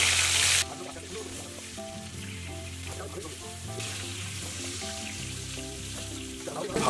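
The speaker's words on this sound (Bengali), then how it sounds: "বন্ধুরা দেখুন, আমাদের তেল গরম হয়ে গেছে। এইবার আমাদের যেই মাছগুলো ম্যারিনেট করা ছিল সেই মাছগুলো আমরা এক একে দিয়ে" Marinated pieces of katla fish frying in hot oil, a steady close sizzle that swells slightly as the pieces go in, with a person talking over it.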